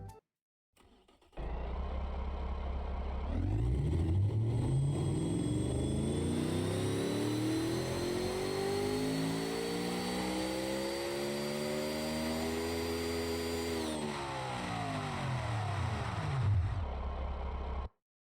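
A racing engine in the game Automation, built from a G-Wagon, revs up hard, holding a high, buzzing whine with rising and falling pitch sweeps, loud and close, then cutting off abruptly.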